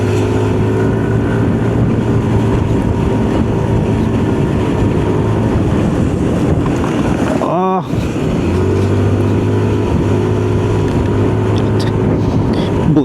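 A Yamaha NMAX scooter rides over a rough, potholed road, its engine droning steadily and loudly throughout, with a brief dip and jolt midway as it hits a bump.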